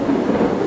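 Steady rain with a low rumble of thunder on a rainy night, a continuous dense wash that stays loud and even throughout, with no voices.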